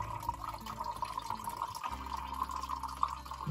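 A little water poured from a container, a gentle trickling and dripping stream for a few seconds, close and moderately quiet with no talk.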